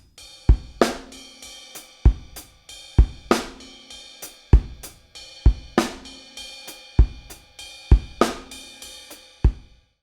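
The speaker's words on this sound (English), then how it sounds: "vary this groove by putting the ghost notes on the hi-hats and getting the right hand and putting on the crash cymbal" Drum kit playing a linear groove, hi-hat ghost notes between hits and a crash cymbal accented by the right hand; strong, evenly spaced crash-and-kick strikes repeat roughly every second with softer notes between, close and alone.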